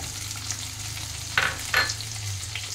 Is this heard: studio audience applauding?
no